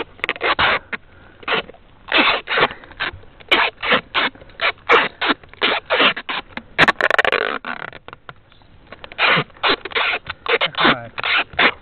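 Adhesive tape is pulled off the roll and wound around a wooden tent stake outdoors, giving repeated loud ripping screeches in quick irregular bursts, close by.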